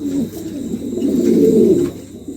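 Pigeons coo close by at a pigeon market, a low rolling burble that swells and fades, with no talking.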